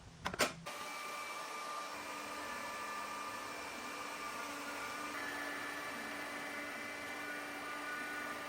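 A CNC router fitted with a 1/8 inch bit cuts wood for epoxy inlays, sending out a steady, loud, whining drone that carries on unbroken after a brief clatter at the start.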